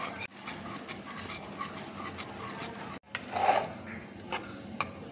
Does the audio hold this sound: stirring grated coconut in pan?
yes